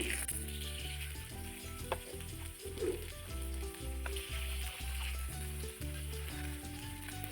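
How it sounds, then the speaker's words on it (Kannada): Fish frying in a pan for fish curry gives a steady close sizzle with occasional stirring and scraping clinks, and no talking. "ಇದು ಇವಾಗ ಒಂದು 2 ಮಿನಿಟ್ಸ್ ಕ್ಲೀನಾಗಿ ಫ್ರೈ ಆಗಿರುತ್ತೆ. ನಾನು ಇದನ್ನು ಉಲ್ಟಾ ಹಾಕೊಳ್ತೀನಿ."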